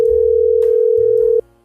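A steady telephone dial tone holds one unbroken pitch, loud and close, for about a second and a half before it cuts off abruptly, leaving only a faint low hum.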